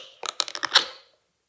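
An old, never-oiled hinge on a minimalist treat pouch gives a short run of about five rapid creaks and clicks, close and crisp, ending in a brief ringing squeak that fades.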